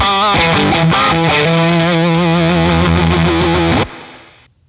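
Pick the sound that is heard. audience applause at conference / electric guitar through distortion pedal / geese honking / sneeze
electric guitar through distortion pedal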